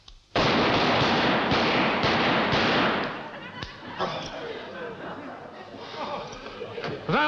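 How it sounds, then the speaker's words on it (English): Five rounds of rapid rifle fire crack out on an army shooting range, a dense loud burst of overlapping shots for about three seconds, then fading into quieter scattered sounds as voices speak. "Rapid fire."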